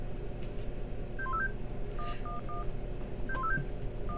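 Electronic phone keypad tones beep in a video game scene as a cell phone number is dialed: short bursts of quick beeps in clusters with brief pauses, clear over a faint steady background.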